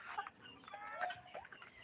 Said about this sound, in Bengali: দেখছেন মুরগিগুলো কীভাবে খাচ্ছে চালগুলো